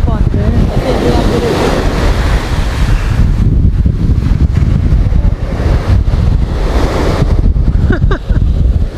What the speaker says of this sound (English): Breeze blowing like crazy, you know.